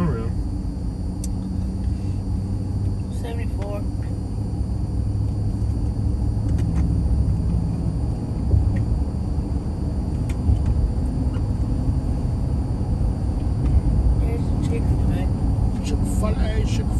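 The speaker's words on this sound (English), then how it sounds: "serious traffic coming through." Heavy road traffic on a highway around Charlotte, North Carolina, rolls by as a steady rumble of passing cars heard from inside a vehicle, with people talking over it throughout.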